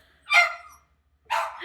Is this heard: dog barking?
yes